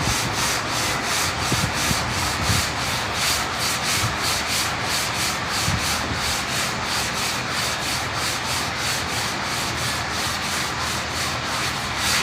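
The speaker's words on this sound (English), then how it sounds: "As Jason's block sanding the door there" A block sander being pushed across the steel door of an MGB under restoration, a continuous close abrasive rasping made of steady back-and-forth strokes, with no voices heard.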